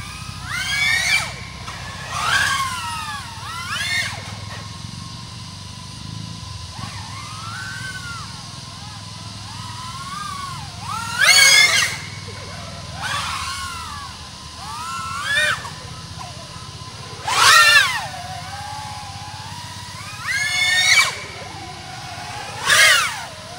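An OddityRC XI35 PRO 3.5-inch 6S cinewhoop drone flies nearby, its motors whining in pitch sweeps that rise and fall, with several louder bursts of throttle at irregular intervals.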